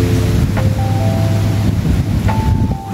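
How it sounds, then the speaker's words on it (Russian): Strong wind buffets the microphone in a continuous low roar, gusting unevenly, with faint tonal whines drifting through in the background. "Ну, какой ветер"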